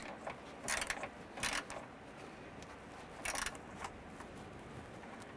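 A ratchet snugging down the bolts on a 2008–2012 Honda Accord A/C condenser, a few short bursts of clicking close by, quiet between them, with no talking.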